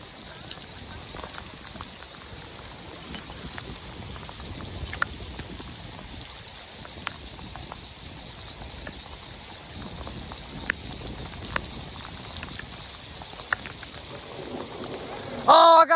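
Steady rain falls and patters on a surface near a lake during a bass fishing outing, a dense even hiss with scattered drop taps throughout, no voices.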